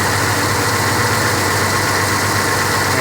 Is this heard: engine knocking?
yes